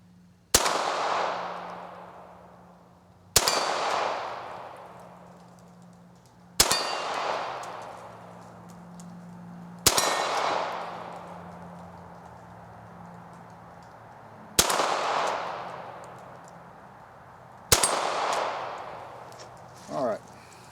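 A .22 rifle loaded with Sellier & Bellot CLUB ammunition fires six evenly spaced shots at a metal target, each a sharp crack with a ringing, decaying clang, loud and close, with brief talk between shots.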